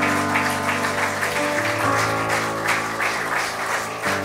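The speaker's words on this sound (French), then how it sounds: "Est-ce qu'on peut applaudir un peu plus fort que ça," Church congregation clapping harder at a worship service, a dense wash of applause lasting several seconds over held keyboard chords.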